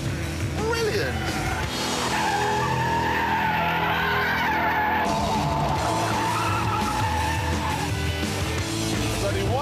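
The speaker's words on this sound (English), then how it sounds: "Let's turn in, whoa, miles of oversteer" Tyres of a Vauxhall VX220 Turbo skidding in oversteer on a racetrack, a long wavering squeal over the engine's roar, with someone talking excitedly over it from inside the car.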